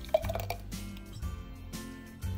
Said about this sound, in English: So I'm gonna pour it in a pretty wine glass today.